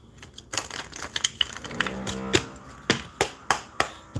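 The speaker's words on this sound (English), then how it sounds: "Let me shuffle one more time." Crisp riffling and snapping card sounds, with a burst of fluttering shuffle midway followed by several sharp, evenly spaced taps.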